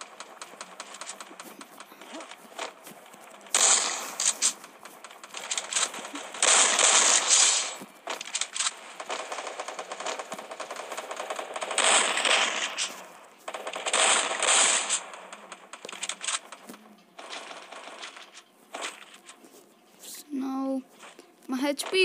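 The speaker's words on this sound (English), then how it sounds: "one enemy is firing at me" Enemy gunfire in the Bomb Squad video game comes as bursts of rapid shots and sharp game effects, loud in clusters with brief pauses between them, with a player talking over parts of it.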